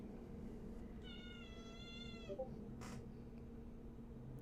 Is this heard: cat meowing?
yes